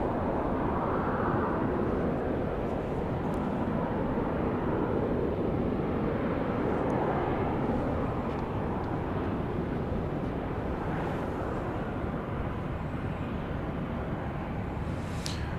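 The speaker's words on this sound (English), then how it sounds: "flight 1097 from Austin, Texas, 737-800, making its way across the downtown skyline" A Boeing 737-800 airliner, flight 1097 from Austin, passes over a downtown skyline at night, a steady, distant broadband roar that holds evenly throughout with a breezy wash.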